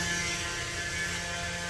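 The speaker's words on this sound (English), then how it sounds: "So that's the truck vacuum pump." A septic service truck's vacuum pump hums steadily and loudly at close range, a constant mechanical drone with a faint rattling edge and no talk over it.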